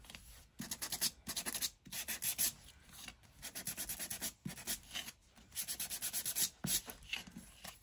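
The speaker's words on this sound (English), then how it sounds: "sanding!" Rhythmic sanding strokes on paper cluster tabs, a close raspy rubbing repeated in quick back-and-forth bursts with brief pauses between sets.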